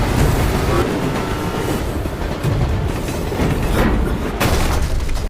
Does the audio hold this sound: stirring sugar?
no